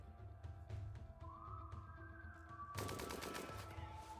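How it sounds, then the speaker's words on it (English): Rapid bursts of gunfire from colonists shooting fleeing raiders in the video game Rimworld, dense automatic crackle over a busy game soundscape, with a heavier volley late on. "they're shooting them in the back on the way out"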